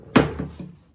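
A drawer in a Paris hotel room is pushed shut with a single dull wooden thunk, followed by a softer knock and a faint rattle as it settles, close by.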